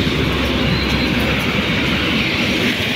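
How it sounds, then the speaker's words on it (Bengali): A train passes below at a school block in Laxminagar, New Delhi, giving a loud, continuous rumble and rattle of rail cars that holds steady for the whole stretch with no talk. "ওই যে ট্রেনটা যাচ্ছে"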